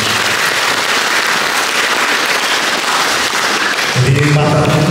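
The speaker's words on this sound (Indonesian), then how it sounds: "Kasih tepuk tangan dulu untuk moderator" A seminar audience applauds the moderator with steady, dense clapping that fills the room, loud and continuous, with a brief voice entering near the end.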